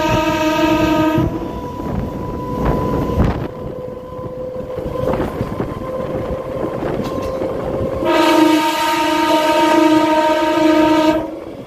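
Dindigul–Coimbatore MEMU express train running at speed, a loud steady rumble of wheels and carriages with strong horn-like tonal blasts at the start and again near the end.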